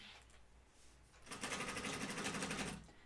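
A sewing machine runs steadily for about a second and a half, stitching along a seam in waterproof fabric, the rapid needle rhythm loud and close after a quiet start.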